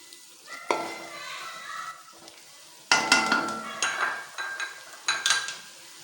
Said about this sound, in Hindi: बस अब हम इसको मिक्स करेंगे